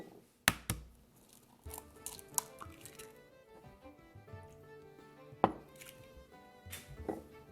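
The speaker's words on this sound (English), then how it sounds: "we're going to break 3 eggs, always separated" Three eggs are cracked for chocolate Guinness cupcake batter, a handful of sharp close taps and knocks scattered over a few seconds against soft background music.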